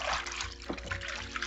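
Clorox bleach, about a quarter cup, is poured into a basin of water for hand-washing towels, giving a soft, steady trickling splash up close with no talk.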